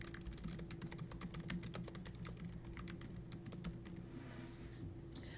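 Fingers type a reading passage on a computer keyboard in a rapid run of quiet, close clicking keystrokes that stops shortly before the end, leaving a faint room hum.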